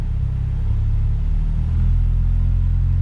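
A Ford Duratec engine fitted with a Sierra dash rumbles close and loud, its low drone rising slightly as the revs are nudged from about 1,000 up toward 1,200 RPM.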